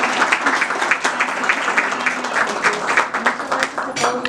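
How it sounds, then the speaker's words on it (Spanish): An audience claps at an evening medical event honouring a doctor's medal, a busy, fairly loud patter of hands with some voices mixed in. "me gustaría que le damos un aplauso a la doctora Beltrán por su muy merecida medalla"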